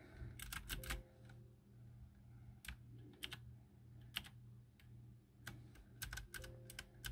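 Typing on a typewriter-style mechanical gaming keyboard: bursts of sharp, clacky keystrokes in quick runs with short pauses, close and fairly quiet, with a low steady hum beneath and no talking.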